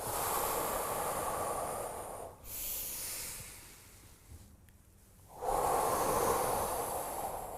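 A long, steady exhale during a guided qigong breathing exercise, heard as broad breathy hiss that fades out, followed by a quiet pause and a second strong breath near the end.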